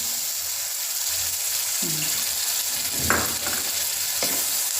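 Tomato puree sizzles in onion paste in a pan, a steady loud close hiss broken by a few spoon scrapes and clinks as the mixture is stirred.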